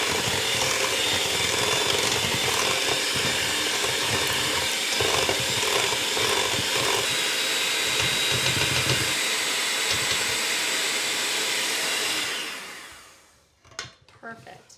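An electric mixer whirs steadily and loudly through pumpkin dessert filling for about twelve seconds, then winds down and stops, leaving a few clunks and light handling noises.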